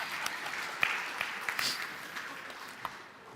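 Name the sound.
applause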